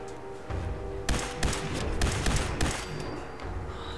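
Gunfire in the video game Fallout 4: a dense run of sharp shots and bursts over about three seconds, close and loud above a steady rumbling game backdrop.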